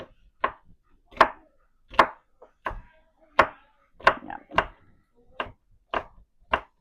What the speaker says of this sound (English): I'm just going to keep chopping them so they're pretty tiny